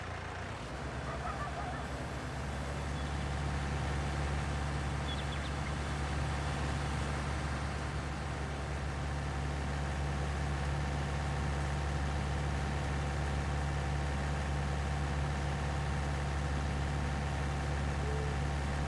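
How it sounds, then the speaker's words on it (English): Steady engine drone of a tractor in Farming Simulator 19, a constant low hum with a tonal whine that holds evenly and fairly loud throughout. "This tractor makes weird, like, train noises sometimes when he's starting to go fast"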